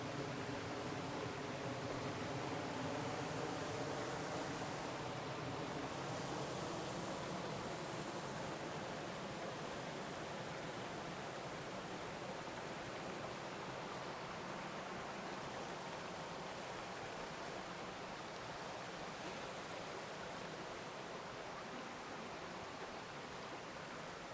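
A creek washes out into an estuary at the edge of a park, giving a steady, close, full rush of flowing water that holds an even level throughout with no voices.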